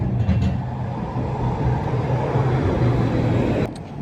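Tram arriving at a stop on a Sunday, a steady loud rumble of wheels and motor close by that holds for several seconds, then drops off sharply near the end.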